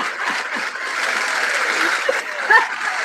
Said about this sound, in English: I found a sound effect. Applause for Janiyah.